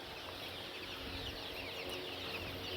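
Sonali chickens on a poultry farm clucking softly in a steady, busy flock murmur, faint and continuous with no voices.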